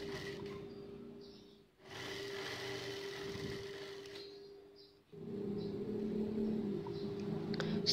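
A sewing machine stitching around the top edge of a batik mermaid skirt, running steadily in two longer bursts with short pauses between them, fairly faint and close, with no talking.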